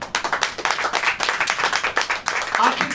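Loud close clapping from a church congregation during a sermon, quick rhythmic hand claps in a fairly regular beat with voices mixed in.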